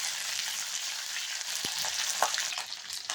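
Onion and garlic fry in a pan with chana dal for a bottle gourd chutney, giving a steady close hiss of sizzling with a few sharp stirring clicks and no talking.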